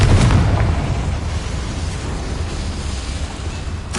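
A Confringo blasting spell bursts inside a small mine in Hogwarts Legacy, a loud boom at the start that rolls into a long, rumbling low tail and dies away before a short crackle near the end.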